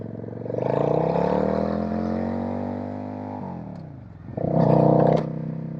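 Riding on a Suzuki Marauder bobber motorcycle, the engine drones loud and near with a steady rumbling tone that shifts pitch, dips briefly, then rises again as it accelerates.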